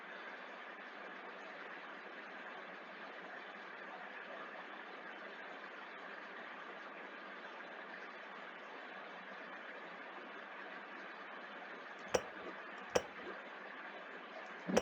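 An engine in the Fusion game hums steadily at reduced RPM, a low, even, band-limited drone throughout, broken near the end by two sharp clicks.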